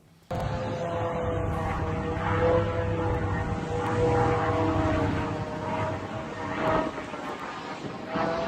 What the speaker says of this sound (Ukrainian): Український дрон ненав'язливо, спокійно, скажімо так, по-панськи залетів в Ніжнігородську область